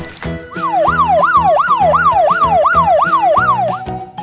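A police car siren wails in a fast, repeating up-and-down yelp, loud and close, about eight even cycles over steady engine hum with no talk.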